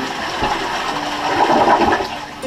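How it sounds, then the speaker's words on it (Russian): A toilet on a floating hotel on the River Kwai in Thailand flushes with a steady rushing gush of water that swells toward the end, close and loud, with no talk. "Самое главное, если послушайте спуск."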